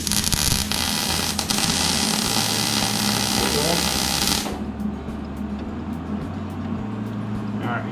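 MIG welder running a bead on metal, a steady loud crackling hiss for about four and a half seconds that then stops, leaving a lower hum and background noise.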